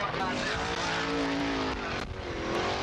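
Sprint cars race through turns three and four on the last lap of a heat at Claremont Speedway, their engines a loud, sustained, steady roar that dips briefly near the end.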